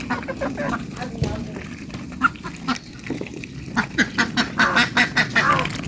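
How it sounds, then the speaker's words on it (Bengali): Farm ducks crowd in at feeding time, quacking in a busy run of calls that grows louder and more rhythmic toward the end, close by, with occasional talk mixed in. "আমার হাঁসগুলো কিন্তু চলে আসছে, দেখতে পারতেছেন"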